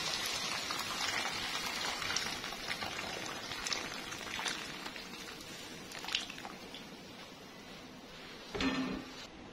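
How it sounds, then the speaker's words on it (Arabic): Water boiling in a pot on a stovetop while making trotter soup, a steady broadband bubbling and hissing that runs throughout, close and moderately loud, with a brief louder surge near the end. "الميه بتغلي اهي"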